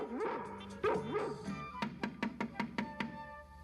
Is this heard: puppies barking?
yes